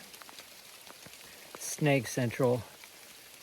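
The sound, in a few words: heavy rain falling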